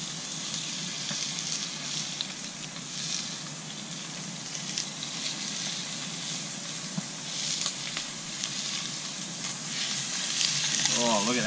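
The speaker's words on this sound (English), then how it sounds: "Yep, it's nice and sizzly, that's perfect" Pieces of lamb sizzle steadily as they fry in a hot pan for a stew, a continuous bright crackling hiss at moderate level with faint stirring near the end.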